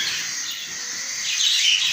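Pet birds chirp and tweet continuously in an indoor bird room, a dense overlapping chorus of small high-pitched calls with no talking, swelling slightly louder toward the end.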